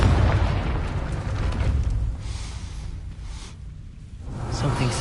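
Confringo fire spell exploding in the Hogwarts Legacy video game, a loud boom with a long rumbling roar that fades slightly and swells again, with no voices.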